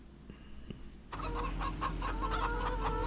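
Chickens in the farming video game Farming Simulator 25 cluck steadily in a repeated, close chorus that starts abruptly after a quiet moment, with no talking.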